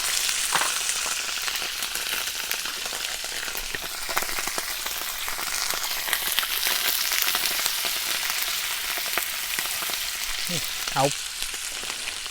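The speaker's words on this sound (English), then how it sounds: "these vegetables will saute a lot faster this way" Vegetables for fried rice sauté in a hot pan with a steady, loud sizzle that runs without a break, joined by a few light stirring scrapes and one brief exclamation from a person near the end.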